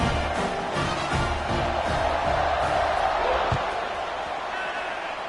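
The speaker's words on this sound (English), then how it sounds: "this crowd now ready to get behind them" A large stadium crowd at an Appalachian State versus USF college football game roars in a broad, sustained wash of noise with an announcer talking over it.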